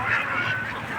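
Ducks at a duck farm let out a short burst of nasal honking and quacking, close and fairly loud for about a second.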